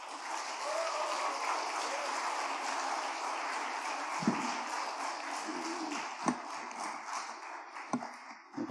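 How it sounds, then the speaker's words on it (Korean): A church audience at a Sunday afternoon service claps in a long, even wash of applause welcoming a speaker, with a few sharper taps standing out near the end. "많이 바뀌었습니다 하면서 큰 박수로 모시겠습니다"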